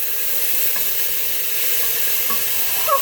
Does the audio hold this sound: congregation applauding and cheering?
no